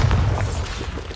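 A Bombarda spell blast in Hogwarts Legacy, a short deep boom with a rumbling low tail, close and loud during a spell-casting fight.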